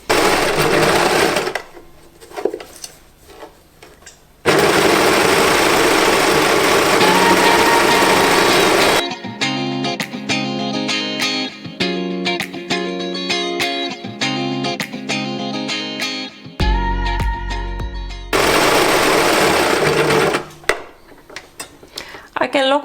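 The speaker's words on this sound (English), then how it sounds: "And now I can sew this on my serger." A serger stitches a knit cowl onto a dress in long, loud continuous runs of buzzing motor and rapid needle chatter, separated by brief pauses and handling noises.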